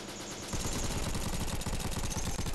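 Rapid automatic gunfire in the Bullet Force shooter game bursts in suddenly and rattles on in a fast, steady stream of close, loud shots.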